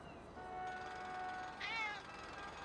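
A video game cat meows a few times, quiet and synthetic, with one brighter rising meow near the end over faint background noise.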